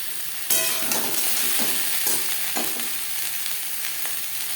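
Green chillies and peanuts hit hot oil in a pan with a sudden burst of sizzling, then a steady, loud crackling fry with a few sharp pops and stirring scrapes, heard alone without talk.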